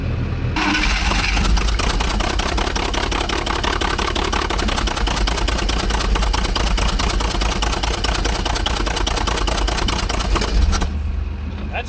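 An Allis Chalmers forklift's propane engine cranks and fires, then runs at a loud, steady rough idle close by for around ten seconds before dropping off.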